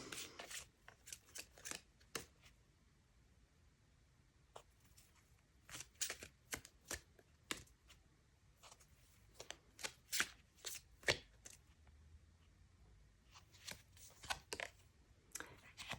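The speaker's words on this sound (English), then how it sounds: "They want me to shuffle before I pull the next one" Tarot cards being shuffled in quiet bursts of crisp riffling, several separate rounds with short pauses between them, close by.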